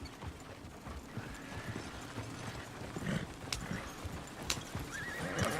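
Horses in the Red Dead Redemption 2 video game, with steady clip-clopping hooves and a whinny over a busy outdoor game soundscape, no voices.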